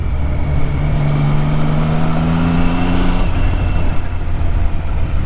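A Triumph Street Triple R motorcycle engine revs up and settles back while running steadily. The pitch rises and falls over a constant mechanical drone, close and fairly loud, with no talking.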